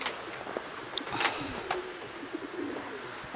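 Domestic racing pigeons at a loft after a winter training flight, with soft coos and rustling sounds scattered over a steady background hiss, plus a few brief sharper calls.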